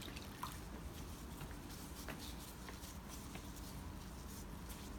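A washcloth being wetted with water gives a soft, steady, faint trickle and drip running throughout, with light splashes close by and no talking.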